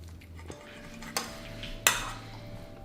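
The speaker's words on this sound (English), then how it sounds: "We're just gonna mix this together" A utensil clinks a few times against a bowl while onions and lime are mixed together, three sharp separate taps over a faint quiet background.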